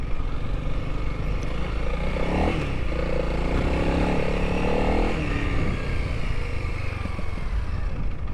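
A Honda CRF 300L or Yamaha XT250 dual-sport motorcycle runs steadily under its rider, with a continuous engine drone, some revving and rattling clatter, and loud wind rush throughout.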